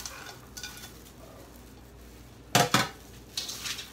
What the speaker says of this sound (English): And mix again.